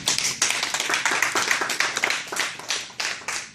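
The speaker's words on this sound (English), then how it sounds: "How many people know that by round of applause?" Audience at a church-style gathering giving a round of applause, a moderately close, uneven patter of individual hand claps that rises and dips in several waves.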